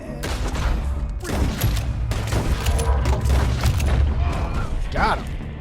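Pistol shots in a Red Dead Redemption 2 quick-draw gunfight ring out in several sharp bursts amid mechanical clicks and creaks, loud and close, with a voice talking over parts of it.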